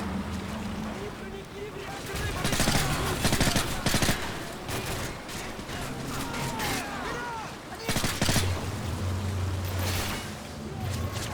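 Gunfire rings out in the video game Call of Duty: Modern Warfare 3, with bursts of rapid shots and loud bangs in clusters over a constant rumbling ambience, while someone talks intermittently.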